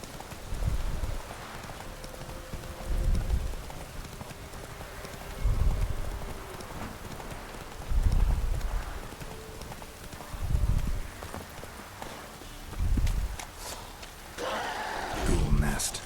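Roach, the horse in The Witcher 3, gallops with heavy rhythmic hoofbeats that come in regular bursts, loud and near, while someone speaks at times over the running.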